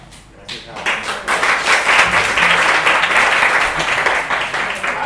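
An audience at a talk on civic participation in urban design breaks into loud, sustained applause that swells quickly and holds steady throughout.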